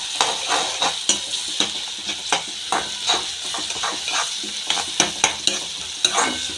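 Green chillies and pasta stir-fried in a pan, a steady sizzle beneath frequent sharp scrapes and taps of a spoon against the pan, close and fairly loud.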